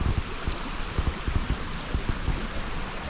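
A creek runs beside a tarp shelter at a winter camp, a steady, close rush of water with irregular gurgles and splashes over a constant broadband hiss, with no voices.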